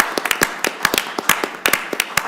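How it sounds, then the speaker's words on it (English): Scattered hand claps from a small audience at a village council meeting, sharp and uneven, close and fairly loud with no voices over them. "Let's give these guys a big round of applause"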